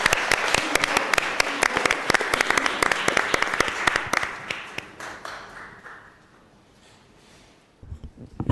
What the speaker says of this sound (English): Can we have applause and a round of applause for these folks?